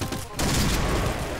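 Rapid automatic gunfire from a machine gun in a shooting video game, a dense, loud and continuous burst that starts after a brief lull and runs to the end without any talk.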